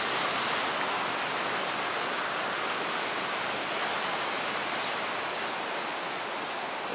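Ocean waves breaking on a shore below snow-capped mountains at Kaikoura, New Zealand, a steady loud wash of surf roar filling the whole stretch without voices.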